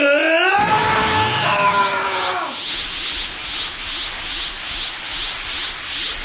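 A person imitates Gohan's scream from Dragon Ball, rising in a loud, strained yell lasting a couple of seconds, then breaking into a harsh, noisy roar with pulsing accents.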